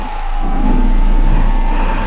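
G4 Max dual-motor electric scooter on supermoto tires accelerating at full throttle in speed mode 3, a loud steady motor whine rising at the start and holding with heavy wind rush, no talking.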